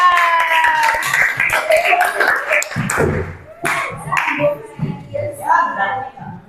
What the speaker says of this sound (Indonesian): Kasih aplaus untuk Sasa.